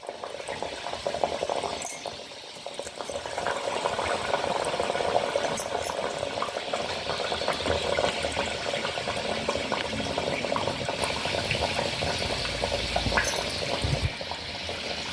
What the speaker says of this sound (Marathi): मंद आचेवर सगळ्या कचोऱ्या तळून घ्यायच्या